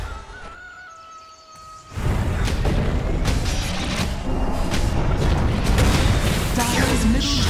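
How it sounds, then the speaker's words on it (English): A Dota 2 Turbo match as a tower falls: a quieter tonal passage gives way to a sudden loud, sustained crashing rumble that fills the rest of the moment, with a voice heard over it. "Dire's middle tower has fallen"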